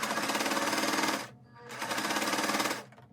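A sewing machine stitches binding through several layers of a pinwheel lap quilt. It runs in two rapid, buzzing bursts separated by a short pause, then stops, close and fairly loud, with no one speaking.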